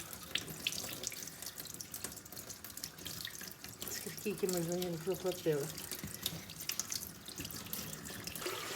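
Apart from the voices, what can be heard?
tap water filling a pot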